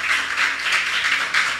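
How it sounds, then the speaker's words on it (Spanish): A church congregation claps and applauds together during a worship service, a steady, moderately loud wash of hand claps with slight swells, no voices over it. "Dale bien fuerte ese aplauso a nuestro Dios, iglesia."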